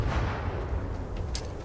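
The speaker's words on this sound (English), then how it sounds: "Gledaj sad ovu preciznu bombu" A precision bomb explodes in the video game Starfield, a deep, loud rumbling blast that rolls on briefly and then fades.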